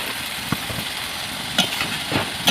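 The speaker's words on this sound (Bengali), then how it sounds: "হালকা জলে ভালো করে কষিয়ে নেব।" Chicken curry with potatoes sautéing in a little water gives a steady, soft sizzle and bubbling hiss, with a few faint clinks of stirring, close and moderately loud with no speech.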